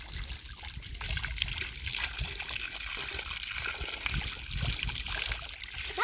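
Flowing water at an outdoor stream spot trickles and gushes continuously, a steady broadband rush that swells slightly partway through, with no clear talk over it.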